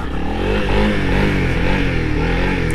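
Honda CRF300L dual sport motorcycle in first gear revving for a wheelie, a loud, close, continuous engine drone holding a steady pitch with slight wavering.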